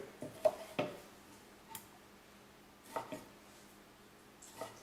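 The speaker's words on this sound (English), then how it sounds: "we're going to take these tomatoes and dice them up a little bit" A knife dicing tomatoes on a cutting board, a handful of sparse, soft taps at uneven intervals, close but faint, with no talking.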